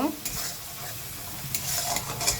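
Masala being stirred and fried in oil in a wok for a chicken skin bhuna, a close sizzle broken by scraping strokes of a spatula at irregular intervals, with no voices.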